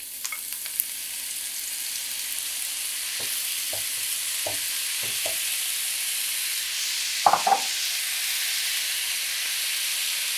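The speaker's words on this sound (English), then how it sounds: "here I have a pan, adding our olive oil and our mushrooms" Mushrooms sizzle in olive oil in a pan, a steady high hiss running throughout, with several soft knocks of stirring in the middle and a louder scrape near the end; no one speaks.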